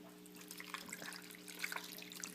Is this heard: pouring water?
yes